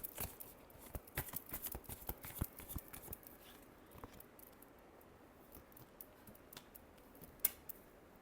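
Tarot cards are shuffled close by in quick, soft papery riffles and taps that are busy for the first few seconds, then thin out to occasional faint flicks in a quiet room.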